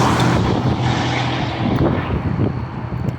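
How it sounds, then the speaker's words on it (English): A loud truck passes close by, a heavy broadband engine and road roar that fills the scene, then begins to ease off toward the end. "here comes another loud truck."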